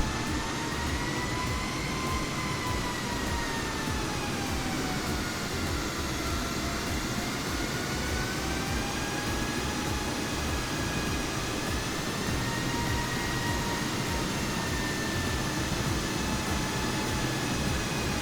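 An Airbus airliner taxiing in a flight simulator produces a steady, continuous engine whine and rumble with slowly drifting tonal lines, constant in level throughout with no talk.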